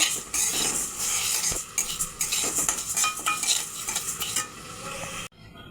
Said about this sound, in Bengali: মুগ ডালগুলো ভেজে নেব।